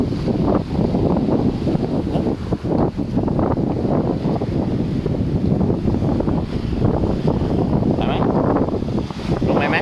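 Strong wind buffets the microphone outdoors on a family outing, a constant loud rumbling roar with gusty swells and brief fainter background sounds underneath.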